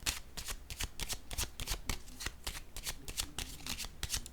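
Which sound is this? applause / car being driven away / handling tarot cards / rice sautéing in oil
handling tarot cards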